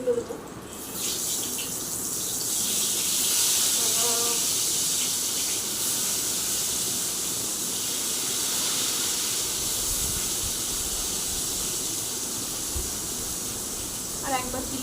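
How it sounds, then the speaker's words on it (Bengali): Food fries in a pan while it is stirred and turned, giving a steady, close hiss with a few faint scraping clinks along the way. "এগুলো একটু নাড়িয়ে চালিয়ে উল্টে দিই ভাজা প্রায় হয়ে এসছে"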